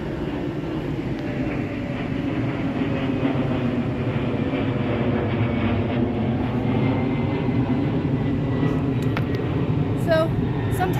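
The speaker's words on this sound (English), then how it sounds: "so sometimes the planes get in the way" An airplane drones overhead above a garden, a steady, fairly loud low rumble that persists throughout while someone digs and moves perennial plants.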